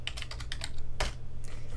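Rapid keystrokes on a computer keyboard while coding an else-if statement, a quick burst of clicks followed by a louder clack, close and clear over a steady low hum.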